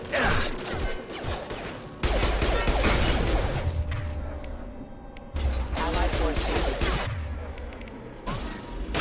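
Dense gunfire rattles through a firefight in Mass Effect 2, with loud rapid bursts and impacts coming in two long waves separated by a brief lull, while game voices speak amid the shooting.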